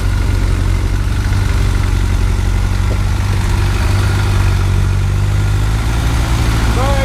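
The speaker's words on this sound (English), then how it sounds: "the rig behind me, this little YJ, actually has a Cummins in it" A Jeep YJ fitted with a Cummins diesel engine rumbles steadily at idle close by, a deep continuous drone with faint voices in the background.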